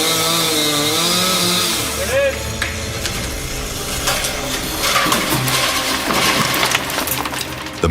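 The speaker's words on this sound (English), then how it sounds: "Stand on a ladder with a chainsaw running, with no protective gear on" A chainsaw runs steadily and loud throughout as a man standing on a ladder leaned against the tree cuts with no protective gear, the tree held by a clothesline pulling the wrong way; engine pitch shifts partway through under mixed background noise.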